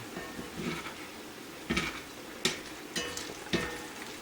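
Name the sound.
pork and potatoes frying in a pan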